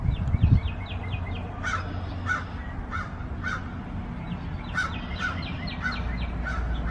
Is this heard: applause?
no